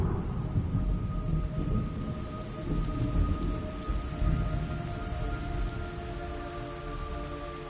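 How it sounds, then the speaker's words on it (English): Steady rain pours in the Metal Gear Solid Delta: Snake Eater video game, with low rolling thunder rumbling underneath throughout and no one speaking. "It's raining blood."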